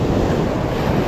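Heavy, rough sea waves churning around a small fishing boat, a loud continuous wash of surf with wind rumbling over the microphone and no voices.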